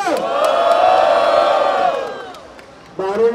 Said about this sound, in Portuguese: Barulho só pra quem achou que foi Nicolas Walter